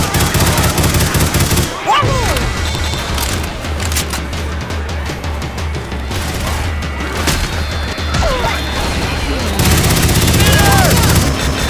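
Shotgun and other weapon fire in Left 4 Dead 2, with loud, dense blasts and crashes filling the scene and occasional brief gaps.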